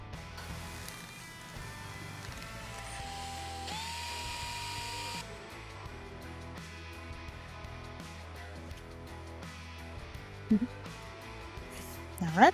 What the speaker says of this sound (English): So I'm gonna just drill this on the sides and the bottom